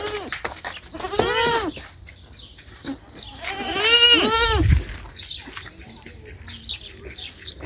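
Goats bleating nearby on an Aegean farm, a few wavering cries with short pauses, over light background noise and faint chirps.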